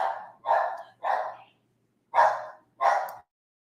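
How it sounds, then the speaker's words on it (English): A dog barks five times in short, evenly spaced bursts, fairly close and clear against a quiet indoor background. "The dog was barking."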